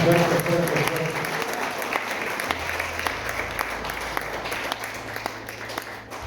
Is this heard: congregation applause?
yes